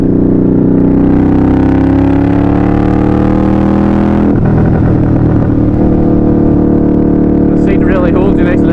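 A Harley-Davidson Night Rod motorcycle is ridden hard, its loud engine note rising steadily through a gear before a shift and continued acceleration under wind noise.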